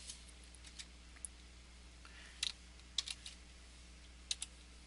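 Light, sparse keystrokes on a computer keyboard while a CAML query is written in an XML editor, scattered taps and short bursts in a quiet room.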